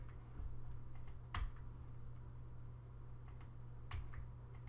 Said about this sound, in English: I'm hitting delete each time.